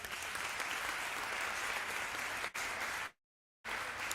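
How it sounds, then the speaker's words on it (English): An audience at an International Day of the Seafarer event applauds a speaker, a steady crowd clap held at an even level that cuts out briefly near the end and then resumes. "Ladies and gentlemen, a warm welcome, applause for Makosi Mtiane."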